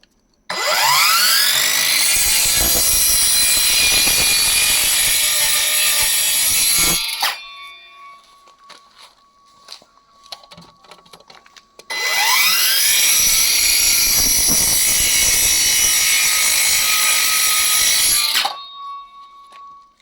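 A Ronix cordless circular saw cuts wood in two loud bursts, each a high whining spin-up into a harsh sustained cut lasting several seconds, with a short quieter gap of motor whir and clatter between them.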